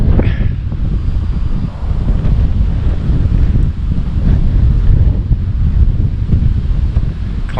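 Strong wind roars across a microphone at a glider flying field, a loud, continuous buffeting rumble with no talk.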